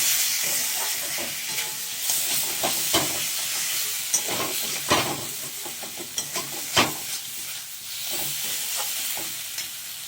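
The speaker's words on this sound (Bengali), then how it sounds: "এবার আমি মশলা দেব। খুব ভালো করে কষিয়ে নেব।" Spices being sautéed in a pan for a fish curry, giving a steady sizzling hiss with scattered stirring scrapes and clinks of the spoon, fairly close and continuous with no talking.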